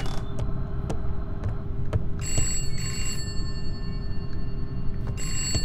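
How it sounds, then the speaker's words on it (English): A phone rings in a horror video game, short repeated bell-like trills cutting in over a dense low ambient drone at a moderate level. "Why's your phone ringing?"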